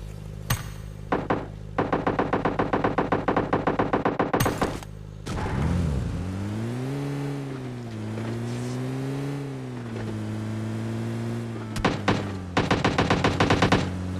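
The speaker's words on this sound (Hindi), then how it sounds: "तो साइड से मेरे ऊपर गोली चली" Rapid automatic gunfire in a shooter video game, repeated bursts of sharp shots, then a loud vehicle engine droning and shifting pitch, followed by more gunfire bursts near the end.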